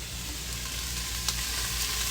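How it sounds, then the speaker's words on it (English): Food sautéing in a pan gives a steady, even sizzle, heard alone with no talking. "there's sizzling happening"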